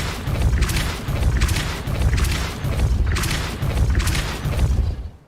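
Five heavy booming magical blasts from a video game Depulso spell strike in an even rhythm about a second apart. Each is a loud, rumbling burst with a whooshing top, and then the sound fades out.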